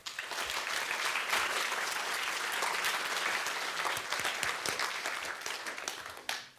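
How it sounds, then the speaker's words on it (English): Sustained applause from an audience at a formal public conversation event, as the moderator is welcomed: many hands clapping in a dense, steady roar that runs several seconds before cutting off abruptly. "please give a round of applause to our moderator, Rana Mitter."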